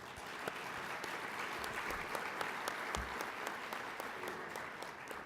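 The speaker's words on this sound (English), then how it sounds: "by a round of applause, how successful was this summit for you?" A legislative summit audience of community college trustees applauds, steady sustained clapping for several seconds without talk over it.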